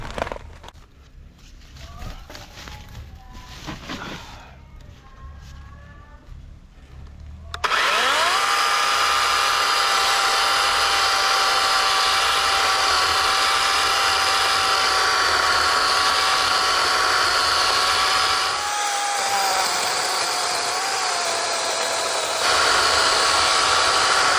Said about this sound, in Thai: เจ้าเลื่อยตัวน้อยๆนะครับ เลื่อยแบตเตอรี่เนี่ยจะสามารถ เอาต้นไม้ต้นขนาดนี้ลงได้ไหม